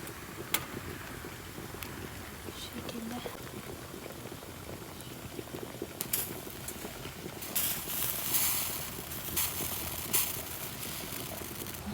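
Water bubbling and rumbling at a steady boil in an old Ottoman-era samovar, a dense low churning that runs throughout, with a few brief clinks and hisses on top.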